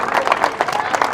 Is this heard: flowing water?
no